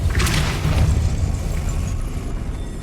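A Depulso force spell cast in Hogwarts Legacy, a booming burst with a sharp whooshing onset that fades into a rumbling tail over a few seconds.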